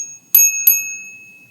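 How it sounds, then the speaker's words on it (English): A bright metallic bell rings twice in quick succession, each strike clear and ringing with a sustained high tone that slowly decays into silence. "Chad's Bell"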